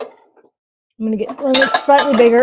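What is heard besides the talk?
pots and pans clattering while fetching a bigger pot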